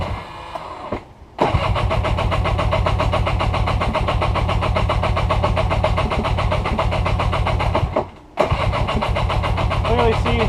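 A car engine is cranked over and starts with a Topdon T01 jump starter clamped to the battery, then runs steadily at a loud idle, cutting out briefly near the end before picking up again.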